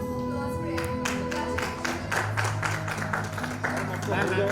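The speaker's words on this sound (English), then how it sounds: "let's have a round of applause for everyone." Audience applause at an awards ceremony honouring achievers, a steady patter of many hands clapping at moderate volume for several seconds, with a voice speaking over it.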